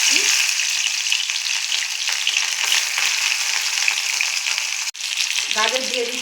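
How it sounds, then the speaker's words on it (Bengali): Capsicum pieces fry in hot oil for a pasta dish, giving a loud, steady sizzle up close that breaks off sharply for an instant before resuming with some stirring. "তেলটা তেতে গেছে এবার আমি ক্যাপসিকামগুলো দিয়ে"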